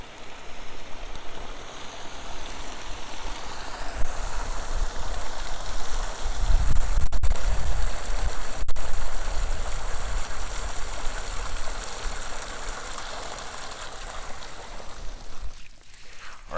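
Fifty gallons of water are poured over a bamboo biochar pit, making a sustained hissing, gushing rush with swells of heavier splashing midway and a few brief breaks.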